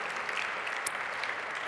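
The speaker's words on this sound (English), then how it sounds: "Let's give them another round of applause." An audience applauds at an awards ceremony, where a Rising Star Award is being presented. The clapping is a dense, steady wash that holds for the whole moment, with no voices over it.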